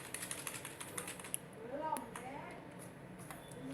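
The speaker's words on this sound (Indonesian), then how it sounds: "Kemudian kita pindahkan dengan gunakan tombol keyboard seperti ini." Computer keyboard keys tapped while working in CorelDRAW, a quick series of light clicks under a faint voice.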